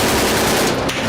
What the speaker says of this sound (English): we'll see how Punk started the shooting